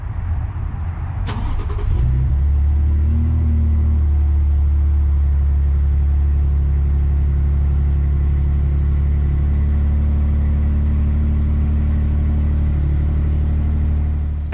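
A new 2025 Toyota Tundra pickup truck starts up with a brief burst, then settles into a steady low rumble while driving, continuous and close throughout.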